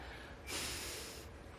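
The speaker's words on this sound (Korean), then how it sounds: "이 콧바람이에요." A single forceful breath blown out through the nose, a breathy rush that swells and fades after about a second, heard up close.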